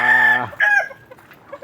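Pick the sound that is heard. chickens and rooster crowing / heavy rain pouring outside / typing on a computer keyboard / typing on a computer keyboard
chickens and rooster crowing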